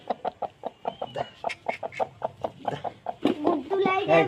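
A hen about three years old, kept at home and being set to hatch chicks, clucks close by in a quick, steady run of short pulses. Voices and livelier sounds come in near the end.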